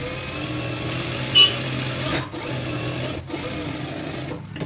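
A sewing machine stitching a seam in blouse lining cloth, a steady mechanical whir close by, broken by a few brief pauses between runs.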